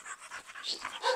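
A small pit bull dog pants on a leash with quick, rhythmic breaths close by, steady and moderately loud with no talking.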